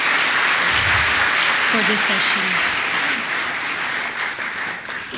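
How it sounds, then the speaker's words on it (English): Students applauding at a high school felicitation event, a dense sustained wash of clapping from a large crowd that stays loud throughout and fades slightly near the end, with a voice speaking over it. "let's all give her a round of applause again"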